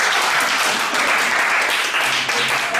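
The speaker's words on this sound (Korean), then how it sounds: "박수가." A church youth worship congregation applauds, a loud, dense burst of clapping from the crowd that carries steadily through the whole moment.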